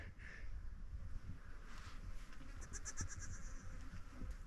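A newborn goat kid with its umbilical cord still fresh bleats outdoors, its thin cries faint and repeated in quick succession over steady wind and rustling noise.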